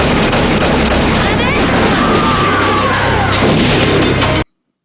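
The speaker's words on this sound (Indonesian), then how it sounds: "maka terjadilah baku tembak di tempat itu" Dense, chaotic bursts of gunfire and crashing impacts fill the clip, loud and continuous, with voices shouting underneath before it cuts off abruptly.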